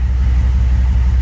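A 6.5L turbo diesel truck engine idles steadily with a low, even rumble and faint rhythmic knock, heard up close and alone.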